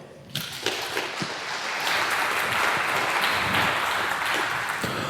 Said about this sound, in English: A big applause for Pieter.